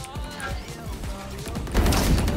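Gunfire in the tactical shooter Valorant: several sharp shots and a quick burst crack through the game sound, with a louder crashing blast at the end, fairly close and punchy.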